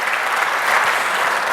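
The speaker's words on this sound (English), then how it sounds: "Give him a great round of applause if you could" A conference audience applauds for an admiral, a short burst of steady, dense clapping from a large crowd filling the room evenly, with no voices over it.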